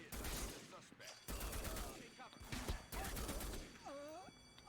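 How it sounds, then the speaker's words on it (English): Assault rifle fire in the Reservoir Dogs video game, loud sustained automatic bursts broken by brief pauses, with other game sounds mixed in near the end. "The assault rifle is quite a powerful weapon, as you can tell."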